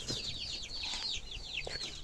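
Black hens on a small poultry farm cluck softly and repeatedly, with chirpy calls and a brief flutter, heard faintly at some distance with no talking.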